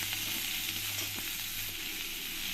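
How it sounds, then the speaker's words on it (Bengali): Chopped onions frying in a pan give an even, continuous close-up sizzle with soft stirring clicks and no talking. "পেঁয়াজগুলো আমি একটু লাল লাল করেই ভেজে নেবো"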